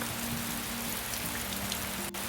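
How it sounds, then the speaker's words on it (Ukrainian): Light rain begins to patter near a lake at the edge of a forest, a steady soft hiss with faint scattered drops, over a low hum and no voices. "Уже, уже починав накрапати дощик."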